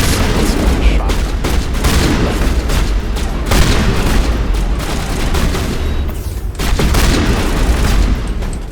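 Dense shotgun fire and explosive booms from the video game Mass Effect: Legendary Edition, a loud, continuous run of blasts and impacts with no speech over it.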